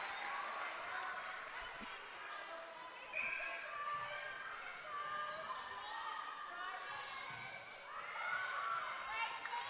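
Crowd at a netball premier league grand final cheering and shouting in a big arena, a sustained roar with swells of whoops, heard under a commentator's voice.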